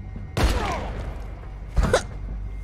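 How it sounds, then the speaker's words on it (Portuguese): Two sharp gunshots in the video game Beyond: Two Souls ring out about a second and a half apart, each a sudden loud crack with a short fading tail. "ele deu um tiro no outro."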